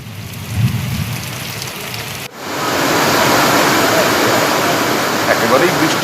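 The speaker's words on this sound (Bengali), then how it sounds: "মহেশতলা, কল্যাণী, পটাশপুর, বিভিন্ন জেলায় জেলায় আজকে বৃষ্টি হলো।" Pre-monsoon rain falls across South Bengal. A brief muffled stretch cuts to a dense, steady hiss of heavy rainfall, loud and close and continuing evenly to the end.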